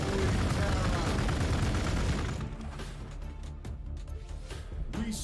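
Gunfire with a grenade blast in the Warhammer 40,000: Gladius strategy game: a dense, loud burst of shots and explosive noise, then scattered sharper reports.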